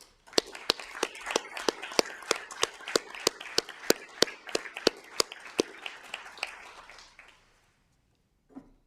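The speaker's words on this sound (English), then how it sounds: "Mr. Rudolph, it's time for a round of applause." Scattered hands clap at a council meeting, a small audience giving a steady round of applause that stays close and distinct for about seven seconds before fading out, followed by a brief knock near the end.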